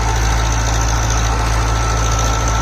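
A 60 HP tractor engine runs steadily in low gear, a loud, continuous low-pitched rumble with a rhythmic throb and a faint high whine, no voices.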